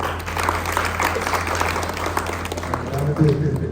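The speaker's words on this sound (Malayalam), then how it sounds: "ഒരു കൈയ്യടി കൊടുത്തു തേർഡ് പ്രൈസ്" Loud, steady applause from an audience at a mehndi competition prize announcement, filling the room for several seconds with dense clapping and crowd noise.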